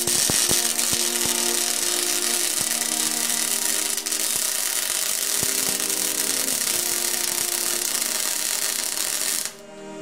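An axle tube is welded during a custom axle build, giving a continuous close crackling hiss for about nine seconds before it cuts off.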